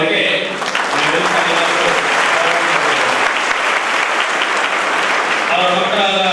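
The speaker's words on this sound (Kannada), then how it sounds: "ಚಪ್ಪಾಳೆ ಬರಲಿ" A large audience at a community youth gathering breaks into thick, sustained applause, many hands clapping loudly and evenly for several seconds, with a voice briefly audible at the start and end.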